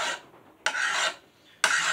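A file rasps across the edge of a steel lawn mower blade in three separate light strokes, each a bright scraping burst with quiet gaps between, close and alone.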